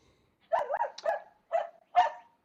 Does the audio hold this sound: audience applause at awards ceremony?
no